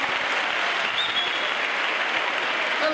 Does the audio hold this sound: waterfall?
no